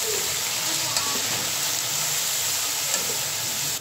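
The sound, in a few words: chopped onions frying in hot oil in a pan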